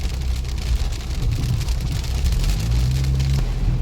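Steady heavy typhoon rain pours down with a dense, hissing patter, mixed with a low rumbling hum underneath, continuous throughout, near a parking area at Clark Airport in Angeles City.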